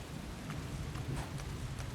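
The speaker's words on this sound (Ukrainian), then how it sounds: "Прям гроза, блискавка, все як має бути." Steady rain hisses with a low rumbling undertone of a thunderstorm in the video game No One Lives Under the Lighthouse, with faint crackles scattered through; no voices.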